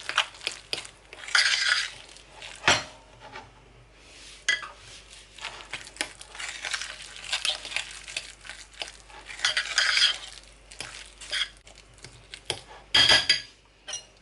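A spoon folds mixed vegetables into creamy potato mash in a pot, giving close, irregular bursts of wet squelching and scraping with occasional sharp clinks against the metal, separated by brief quiet gaps, with no talking.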